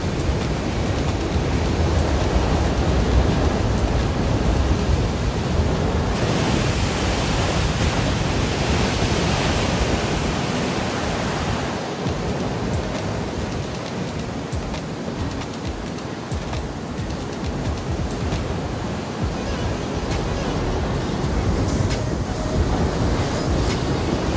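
Waves surge into the splash zone along the Porto coast near a lighthouse, a continuous loud wash of surf with rolling swells and no pauses throughout.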